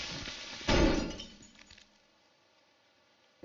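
Glass shattering in the destruction game Teardown: one sudden loud crash that rings out and fades over about a second, with a few smaller tinkles after it.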